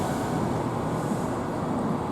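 A train pulling away from a station platform, a steady broad rumble and rush of rolling stock heard nearby and loud, with no voices over it.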